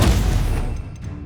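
A loud, close explosive boom from the Confringo blast spell in Hogwarts Legacy, starting hard and decaying over about a second into a rumbling tail.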